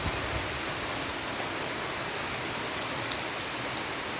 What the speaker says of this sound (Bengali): দেখুন ঝোড়ো হাওয়া বইছে, ঠিক দেখাতে পাচ্ছি না, আর বৃষ্টি শুরু হয়ে গেছে ইতিমধ্যেই।